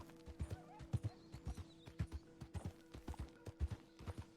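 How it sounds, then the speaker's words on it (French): Horse hooves clip-clopping in a steady rhythmic walk in a video game, with a neigh mixed in, fairly quiet with no talk over it. "Attends, parce que ce cheval a un peu de mal."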